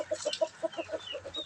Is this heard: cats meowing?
no